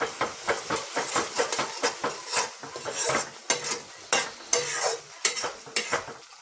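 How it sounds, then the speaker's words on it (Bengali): A spoon scrapes and stirs spices and salt in a sizzling pan while cooking noboratno, with rhythmic, close scraping strokes over a soft frying hiss. "নুন দিয়ে দিলাম, দিয়ে একটু মশলাটাকে ভালো করে মিক্স করব।"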